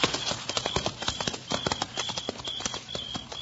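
Rapid clip-clop of horse hooves trotting on a hard surface, steady and fairly close, with no voices.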